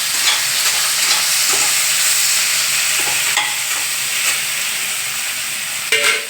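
Green chilies frying in hot oil in a pan for a mushroom curry, a steady loud sizzle and hiss that stays even throughout, with a few faint stirring clicks and no talk.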